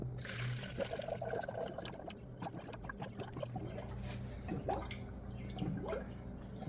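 Distilled water is poured into the coolant system of a Mazda FD3S RX-7, a faint, steady trickle with gurgles and small splashes close by, heard alone.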